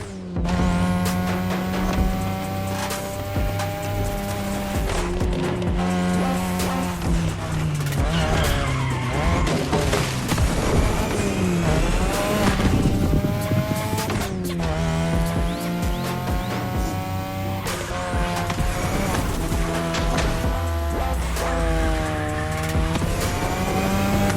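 Cars in The Crew Motorfest race along a Japanese touge mountain road, engines revving continuously and tires squealing and skidding through the corners, loud and sustained throughout with no talk over it.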